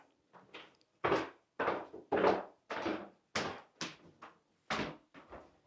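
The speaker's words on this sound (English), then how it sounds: "Do you love all the noise my steps make?" A string of heavy, uneven footfalls thuds and creaks on old wooden house stairs, close by, each step a dull knock with a short woody ring.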